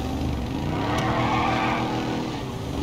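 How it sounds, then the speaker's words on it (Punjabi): Modified tractor engine in a GTA video game, heard as a steady, loud, rumbling drone with a brief squeal partway through, continuous and close with no talk. "ਤੁਸੀਂ ਇਹ ਟਰੈਕਟਰ ਦੀ ਆਵਾਜ਼ ਸੁਣੋ ਭਰਾਵੋ"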